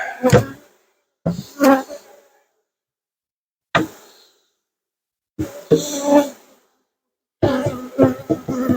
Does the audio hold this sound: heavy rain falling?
no